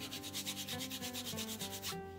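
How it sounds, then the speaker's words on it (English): The edge of a leather wallet is burnished in fast, even back-and-forth rubbing strokes that are close and faint. "So just keep buffing it. Just keep burnishing it."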